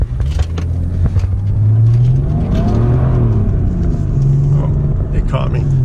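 Mercedes W210 with an OM606 diesel engine revving while sliding around a corner, a loud close engine roar that rises and falls in pitch several times, with a voice talking over it.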